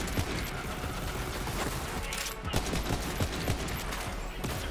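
Rapid gunfire from an elemental Jakobs rifle in the Borderlands video game, a dense, continuous burst of quick shots with clattering mechanical effects, loud and up close throughout.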